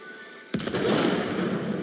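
A sudden blast in It Takes Two, set off by a horn, hits after half a second of quiet and rolls on as a loud, sustained rumble with crackling debris.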